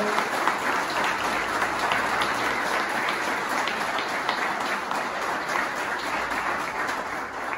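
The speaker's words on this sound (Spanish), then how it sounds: "un fuerte aplauso" Sustained applause from a crowd at a union gathering, steady dense clapping filling the whole stretch at moderate level with no talk.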